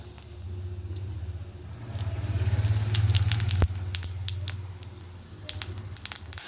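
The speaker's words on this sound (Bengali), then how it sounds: "এই তেলের মধ্যে আমি এবার এক এক করে তোমার শুকনো লঙ্কা আর এই যে তেজপাতা আর এই যে গোটা জিরেটা দিয়ে দেবো" Dried chili, bay leaf and whole cumin sizzle in hot oil, with a low crackling hiss that swells and then eases, plus sharp spattering pops toward the end.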